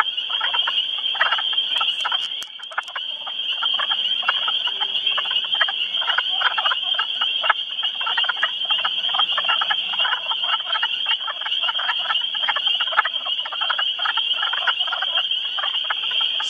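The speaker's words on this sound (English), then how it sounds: "So these wood frogs are being very cooperative. They're actually sitting still and singing." Wood frogs in a pond give a dense, continuous chorus of quacking croaks, many calls overlapping at moderate distance with no voices.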